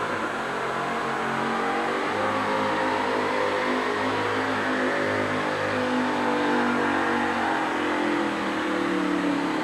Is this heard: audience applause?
no